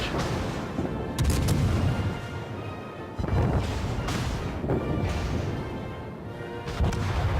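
Heavy naval gun salvo in World of Warships, the cruiser HMS Belfast firing: deep booming blasts in repeated waves, with loud rumbling reports near 1, 3.2 and 6.8 seconds that roll on between them.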